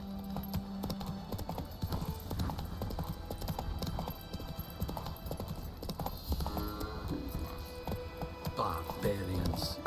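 Hooves of the horse Roach pound in a quick, continuous clip-clop gallop across The Witcher 3 game world, with a voice and game sounds layered over the rhythmic strides.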